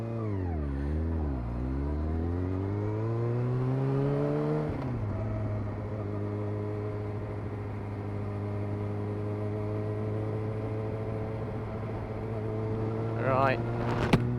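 A Yamaha R1 sports bike with a six-speed gearbox accelerating hard, its engine note climbing, dipping and rising again through the gears before settling into a steady high howl, with a brief sharp noise near the end and no talk.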